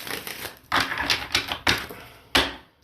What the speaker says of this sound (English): I'm going to shuffle and cut the deck to grab the 3 cards for every sign